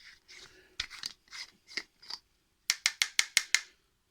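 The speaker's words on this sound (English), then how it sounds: "it definitely grinds weed really, really well and with relative ease" Raw Life V3 herb grinder twisting through weed, with a run of dry scratchy grinding strokes followed by five sharp, evenly spaced crunching clicks, close and fairly quiet.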